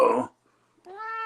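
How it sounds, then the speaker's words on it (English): A cat meows loudly and close, two drawn-out yowls separated by a short silence, the second call long and steady. "I hear a cat."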